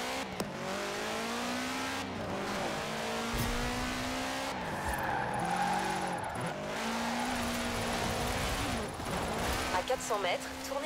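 Drifting car in Forza Horizon 4 with a steady engine drone and squealing tires running throughout, revs rising and falling as it slides, voices talking over it and a navigation prompt now and then.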